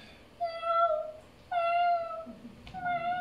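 Stray cats with matted fur meow softly, three drawn-out meows one after another, close by and with no other sound around them.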